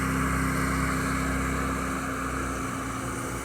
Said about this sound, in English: He started his engine.